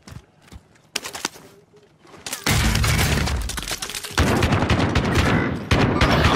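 Gunfire erupts in a first-person shooter, with a few sparse cracks first, then dense, loud bursts of rapid shots filling the second half, while players talk briefly underneath.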